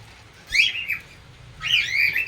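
Caged yellow fischer lovebirds and a breeding pair of black java sparrows chirp in two bright bursts of high twittering and whistled calls, with quiet gaps between them.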